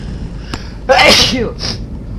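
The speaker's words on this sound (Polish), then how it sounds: "Kurde, zaraz będę musiał kichnąć." A single loud sneeze bursts out close to the microphone, a sharp intake followed by a noisy explosive blast and a brief trailing hiss, with faint background noise around it.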